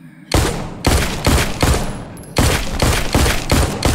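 Loud, rapid shots fired at walkers in the video game The Walking Dead Onslaught come in a steady rhythm of six or seven heavy, booming reports with no pauses for talk.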